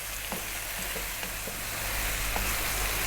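Spices for a chicken potato coconut curry fry over medium heat, with a loud, dense sizzle close up and a few soft scrapes of a utensil stirring the pan.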